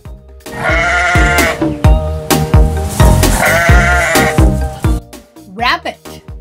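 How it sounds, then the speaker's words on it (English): Sheep bleating in repeated wavering calls, loud and close, with a few clipped voice-like bursts between them and a brief pause near the end. "Sheep."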